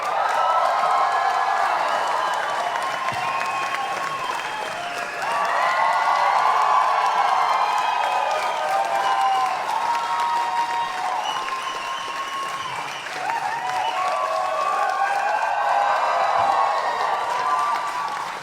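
A theatre crowd at a Depeche Mode press conference in Berlin applauds and cheers for a long stretch, with whoops and shouts rising in waves over sustained clapping.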